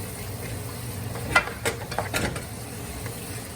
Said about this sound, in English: Give that a really good stir.